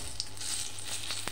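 A bay leaf dropped into hot oil for tempering a Bengali yogurt fish curry, giving a steady, dense hiss of sizzling with a couple of brief crackles, close and without any talking.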